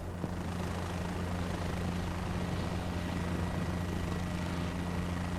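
A helicopter taking off in Microsoft Flight Simulator 2024 gives a steady, loud rotor and turbine drone with a low pulsing hum, continuous and unbroken.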